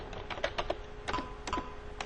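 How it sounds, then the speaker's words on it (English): Keys tapped on a computer keyboard, including the enter key, in a quiet office: a few light clicks, then a couple of sharper separate presses, close but soft, with no one speaking. "I'm just pressing enter"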